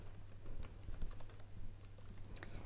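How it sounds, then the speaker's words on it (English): Fingers type on a computer keyboard in a steady run of soft, quick key clicks, close and moderately quiet, with no talking. "what you're just going to do in there is type in checklist."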